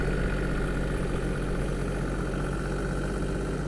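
A pump draining rainwater from a koi fry pond on a koi farm, a loud, continuous motor drone with a steady, unchanging hum and no talk.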